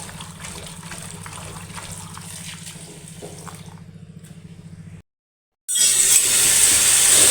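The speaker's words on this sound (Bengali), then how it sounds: "এখন আমি কলা তরকারিটা ধুয়ে নিব।" Green bananas being washed in water in a home kitchen before going into a prawn curry, a steady splashing and running-water wash that stops abruptly, followed by a brief silence and then a brighter, louder rush of water.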